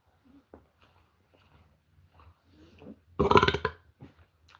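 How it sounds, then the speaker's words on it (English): A man burps loudly after eating a Burger King Whopper, one close, drawn-out belch following some quiet mouth and movement noises, with a short softer sound after it. "I burped again."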